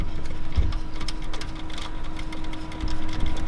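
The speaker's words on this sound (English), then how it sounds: "you can undo that little 13 with a spanner, and you can just loosen it off" A spanner works loose a small 13mm nut on the starter motor of a 2005-2015 Toyota Hilux with the 2.7L 2TR engine, giving close, quick metallic ticks and clicks in an irregular run, with no talk.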